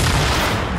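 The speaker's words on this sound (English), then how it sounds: "Ooh, grenade." A grenade blast in Fortnite, a short, loud, dense boom that fills the moment with no voices over it.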